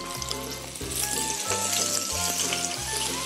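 Onions stir-fry in a little oil over fairly high heat, giving a steady, loud sizzle. A low, rhythmic rumble runs underneath, probably from the pan or the burner.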